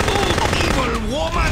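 Rapid machine gun strafing fire in the spy shooter game No One Lives Forever 2, a dense continuous burst of shots, loud and close, with a voice speaking faintly underneath.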